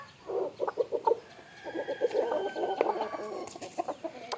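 Country chickens clucking while pecking at ants in the morning after their coop is opened: soft, repeated clucks in two bursts, fairly close, with faint background noise and no talk.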